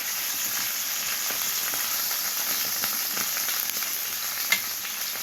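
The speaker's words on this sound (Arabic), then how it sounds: "هننزل باللحمه معانا زي ما احنا شايفين كده، هنديها تشويحه في السمنه اهو بالشكل اللي احنا شايفينه ده" Meat sautés in hot ghee for an okra and meat casserole, a loud, continuous crackling sizzle with a few sharper pops and spits near the end, close up and without talk.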